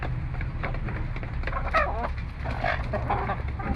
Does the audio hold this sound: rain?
no